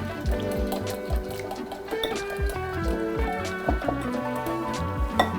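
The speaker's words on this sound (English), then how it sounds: "Add my water. Give that a whisk." Warm tap water added to a falafel batter and whisked in a bowl, giving a steady, close wet stirring and sloshing with repeated rhythmic clinks of the whisk throughout.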